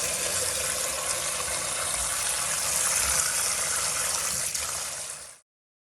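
Tap water gushes steadily over raw chicken gizzards being washed for suya, a loud, continuous close splashing rush that cuts off abruptly at the end.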